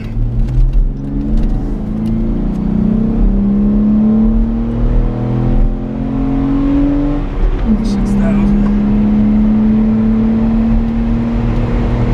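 A Jeep JK with an intake resistor accelerates in second gear, its engine droning loud and close as the pitch climbs steadily, drops briefly at a shift, then rises again, with a voice talking over it.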